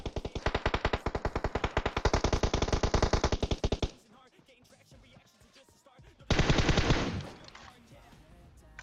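Automatic gunfire in the PUBG Mobile battle royale game: a long rapid burst of closely spaced shots, loud and near, then quiet, then a second shorter burst.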